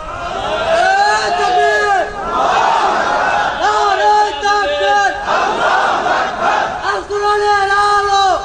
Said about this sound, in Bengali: কি তাকবীর এবার দেওয়া যায় না?